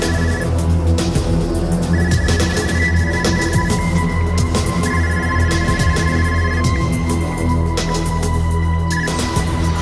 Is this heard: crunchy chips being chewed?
no